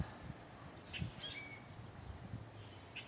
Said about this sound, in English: Right now it's the birds.